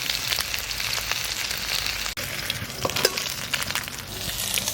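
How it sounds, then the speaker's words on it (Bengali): Small fresh river fish fry in hot oil, giving a dense, steady crackling sizzle with brief pops and one short break, close and fairly loud, with no talk. "সব মাছ খুব ভালোভাবে ভাজা হয়ে গেছে"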